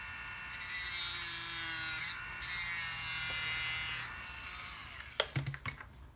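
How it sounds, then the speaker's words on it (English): A small Tamiya Mini 4WD transmission part is filed by hand, producing a steady high-pitched rasping hiss in two long strokes, close and alone, followed by a few light clicks and taps. "I have to file this up a little bit bigger, and this end I have to file a little bit smaller"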